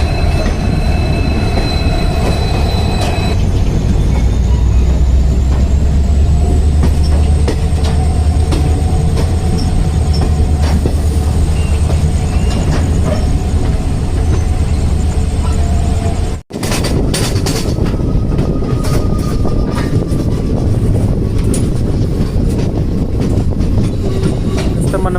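The Shirdi–Kakinada Port Express runs steadily on rails, heard from inside as a loud continuous rumble with rhythmic wheel clatter and occasional squeals, a brief sharp break partway through, then the rolling noise resumes.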